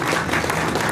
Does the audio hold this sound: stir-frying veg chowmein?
no